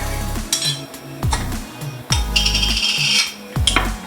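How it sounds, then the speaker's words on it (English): Apple pie filling from a crockpot being spooned into a baking dish: a metal spoon repeatedly clinks and scrapes against the dish in short bursts, with soft wet plops between the knocks, close and fairly loud. "we're just gonna spoon our apple pie filling in here"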